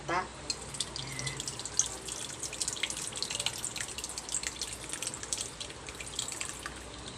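Coconut cream being strained for a home-cooked Filipino curry dish, a steady close trickle and splash of liquid running through a strainer for several seconds, with faint voices in the background.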